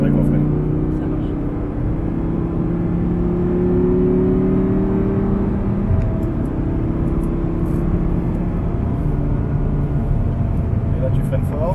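An Audi R8 sports car engine revs up, its pitch climbing over several seconds before easing off and building again, heard from inside the vehicle.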